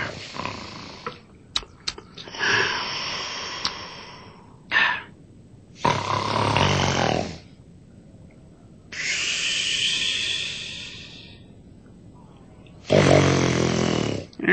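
Loud cartoon-style snoring from a puppet character at bedtime: long rasping inhaled snores alternate with whistling exhales, spaced out with quiet gaps between them, a voice imitating the sound.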